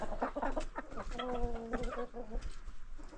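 Chickens cluck and chatter close by, a busy run of short calls with a few longer drawn-out notes in the middle.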